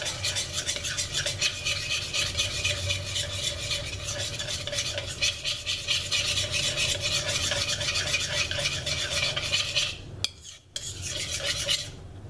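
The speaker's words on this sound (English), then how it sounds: "And you're just going to stir all of that together." Steady scraping and stirring of spring chicken soup ingredients seasoned with white pepper, headed for a crock pot, a continuous close rasping with light clinks, briefly pausing near the end, no voices.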